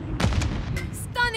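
Shots ring out in Call of Duty: Modern Warfare 3 from a one-shot sniper conversion kit: a few sharp, close reports in quick succession with crackling tails, followed by bright electronic tones.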